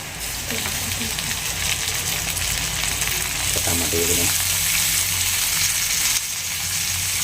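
Paneer fries in hot oil until golden, a loud, continuous, close sizzle with a few faint clinks partway through and no talk.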